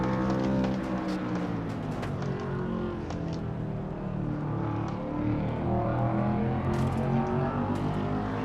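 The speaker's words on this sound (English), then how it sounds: "you heard Sanford letting the car roll through the center of the corner right here" A stock car in an online racing-game league race drones steadily through a corner, its engine pitch rising and falling without a break.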